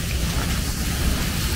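Steady rain falls outside a reputedly haunted house in Pondok Indah, a dense continuous hiss with low rumble, even and unbroken, no voices.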